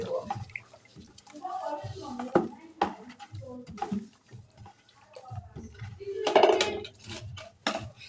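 A homemade bleach mixture stirred in a container, with sloshing liquid, knocks and scrapes against the sides coming in irregular bursts, a voice talking between and over them.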